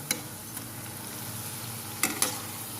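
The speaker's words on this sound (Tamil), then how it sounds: "இது மாதிரி எண்ணெயில் போட்டுட்டு கொஞ்சம் கலர் மாறின உடனே திருப்பிக்கணும்" Murukku frying in hot oil, a quiet continuous sizzle broken by a few brief clicks from handling, with no talking.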